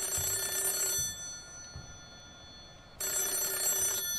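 A telephone rings in the horror video game Hollow Cocoon: two loud bursts of electronic bell ringing separated by a pause of about two seconds, close and alone with no voices.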